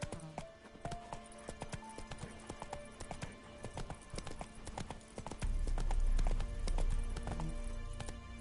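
Roach, Geralt's horse in the video game The Witcher 3: Wild Hunt, galloping with a steady rapid clip-clop of hooves over game ambience, the hoofbeats swelling louder and heavier toward the end.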